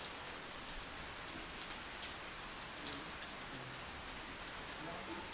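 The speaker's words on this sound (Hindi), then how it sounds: "पूरा बारिश हो रही है," Steady rain falls outdoors at a home during the rainy season, a dense, even hiss with scattered close droplet taps, continuous and without talk.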